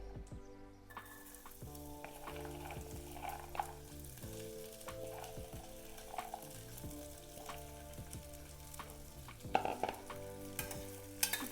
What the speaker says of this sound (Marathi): तर आता गवर टाकून घेते